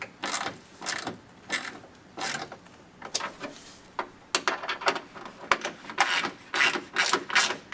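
Ratchet wrench tightening the mount plate of a Rokblokz mud flap on a 2022+ Ford F-150 Lightning, giving a series of quick clicking bursts in uneven spurts, close and fairly quiet.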